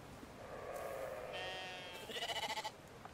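A sheep in the video game Brothers: A Tale of Two Sons gives a drawn-out, quavering bleat followed by a shorter wavering one, fairly quiet and heard on its own without talk.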